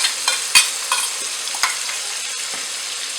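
Coriander paste frying with eggplant in a pan for Surti undhiyu, a hissing sizzle with a few scattered stirring knocks near the start, then a steady fizz with no voices.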